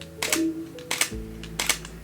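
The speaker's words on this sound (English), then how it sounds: "when we press the shutter, it's take the photo." Camera shutter pressed to take a photo, heard as a few sharp mechanical clicks spaced about a second apart, fairly close and alone with no voices.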